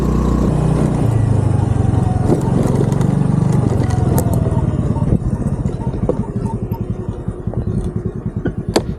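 A scooter rides through Kathmandu traffic, its engine droning and clattering steadily up close amid the surrounding road noise, with no talk.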